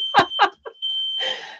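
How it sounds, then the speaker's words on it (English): A household fire alarm sounds as a thin, continuous high-pitched tone behind a few loud bumps and rustles, then a broad burst of noise near the end. "there's the fire alarm going off in my house"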